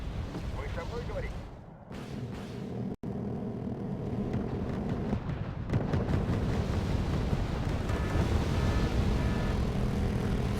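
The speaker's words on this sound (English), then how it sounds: "A6 bombardment." A-6 aircraft bombardment in the Wargame AirLand Battle strategy game: rumbling explosions and heavy booms roll over continuous battlefield noise, loud and sustained, with a voice talking over it.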